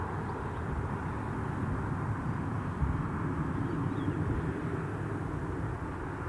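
Airliner departing Newcastle International Airport for Salzburg, a steady broadband engine roar that holds loud and even throughout with no voices over it.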